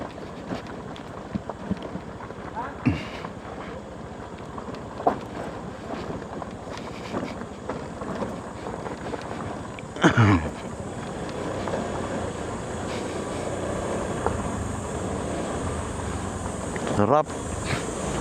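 A motor engine drones steadily under gusting wind noise buffeting the microphone, with occasional louder bumps and rattles.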